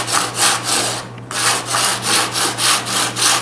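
A coarse file rasps across a piece of wood in steady back-and-forth strokes, close and loud, with a short pause before the rhythmic scraping resumes.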